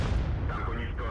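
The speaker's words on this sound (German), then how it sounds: "Nein, er hat uns einen Schuss verpasst." A tank cannon shot strikes the player's vehicle in World of Tanks, a heavy, booming blast that dominates the brief moment and rumbles out as it fades.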